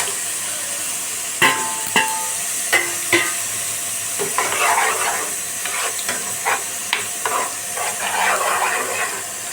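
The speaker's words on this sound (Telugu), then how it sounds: "బిర్యానీ మసాలాలు కూడాను కొంచెం ఫ్రై అయ్యే వరకు ఉంచండి" Onions fried golden with biryani masala sizzle steadily in a pan, a continuous hiss broken by several sharp clacks and scrapes of a spoon stirring against the metal, with no one talking.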